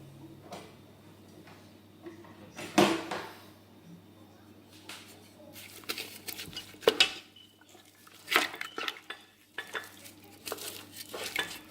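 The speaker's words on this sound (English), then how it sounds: "Then we mix everything together" Chopped onions and other ingredients for goat meat pepper soup are mixed in a cooking pot, with scattered metallic clinks and scrapes of a spoon against the pot, irregular and fairly close.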